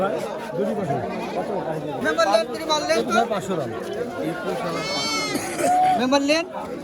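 Goats, castrated bucks sold for Qurbani, bleat at a crowded rural goat market in Charkhat Nandangachhi, Bangladesh. A few wavering cries rise over steady crowd chatter and nearby talk.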